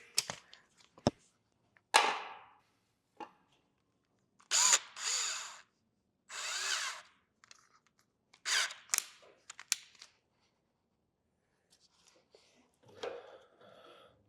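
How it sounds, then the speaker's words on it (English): Short bursts of a power drill in a workshop, fitting hood hinges on a 1965 Chevrolet C10, come in several separate spurts of a few seconds each, with clanks of tools and handling between them and no talking. "I need my drill and I need my drill bit."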